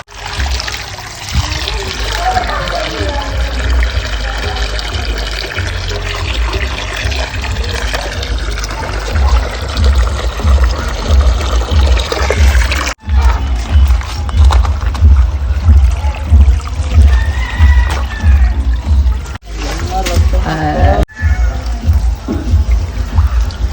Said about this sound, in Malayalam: വെള്ളമൊക്കെ നിറച്ചു,